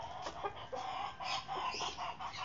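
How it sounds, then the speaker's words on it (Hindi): Several short, throaty clucks from a desi rooster close by, irregularly spaced over a low rumble of background noise, with no talking. "दोस्तों, देसी वाला मुर्गा ना इस तरफ है"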